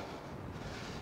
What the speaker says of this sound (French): désolé s'il y a un peu de bruit parce qu'il y a du vent